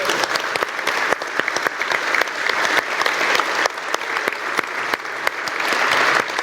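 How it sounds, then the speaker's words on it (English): An audience applauds steadily, a dense wash of many hands clapping at close range that holds for several seconds without letting up. "round of applause."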